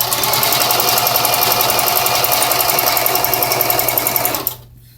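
A sewing machine stitches a blue ribbon onto fabric fringe, running as a loud, steady, rapid whir for about four and a half seconds before stopping abruptly, with only quiet room tone left afterward.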